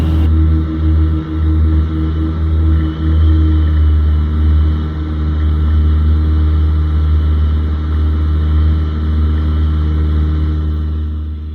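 Twin Comanche light aircraft in cruise, both engines set to 2300 RPM at 20 inches of manifold pressure on a stormy January flight: a continuous, loud, low droning hum from inside the cabin, steady with slight swells.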